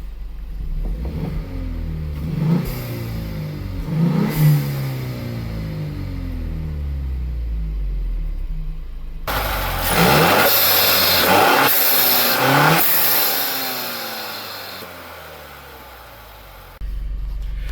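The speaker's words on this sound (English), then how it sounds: "give it a couple revs here" A Ford EcoBoost car engine with an aftermarket Eurocompulsion V1 intake idles with a deep rumble, then revs sharply a few times with a louder, raspy intake roar before settling back down.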